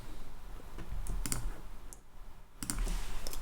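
Mouse and keyboard clicks during coding work on a computer, heard as a few sharp, isolated taps and clicks in two small clusters over a steady low room hum.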